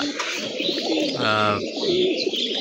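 A khaki pigeon in a home loft coos in a rolling, throaty call near the mic, with softer chirps and bird sounds around it.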